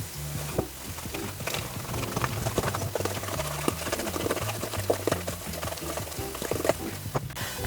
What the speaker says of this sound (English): We're going to mix.